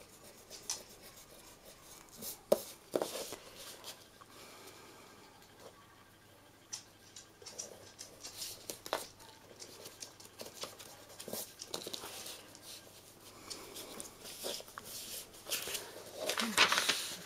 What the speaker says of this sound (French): Je gomme.